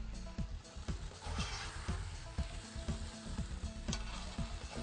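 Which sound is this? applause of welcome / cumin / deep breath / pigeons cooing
cumin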